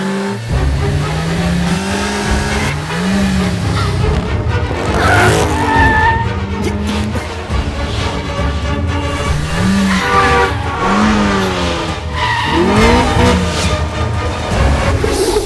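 A car driven hard in a film chase scene, its engine roaring and tires screeching through repeated skids, loud and continuous, layered with a dramatic music score and a voice.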